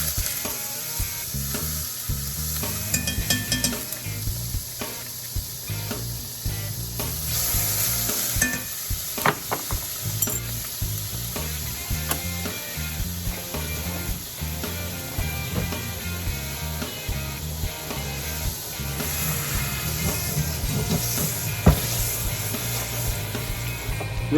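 Homemade butter sizzles in oil in a hot cast-iron pan, a steady close frying hiss with occasional stirring and scraping underneath. It goes on without talk.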